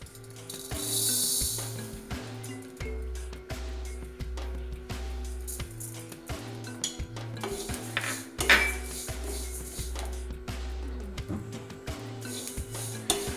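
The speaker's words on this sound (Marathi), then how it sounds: "आपण आता हे कारळं भाजून घेणार आहे" Niger seeds dry-roasting in a pan over medium gas, with steady metallic clinks and scraping of a utensil stirring against the pan, under a continuous bed of music.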